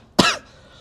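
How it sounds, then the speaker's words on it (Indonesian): A single sharp, close cough bursting out loudly and fading within a fraction of a second, alone with no talk around it. "sebentar gue batuk"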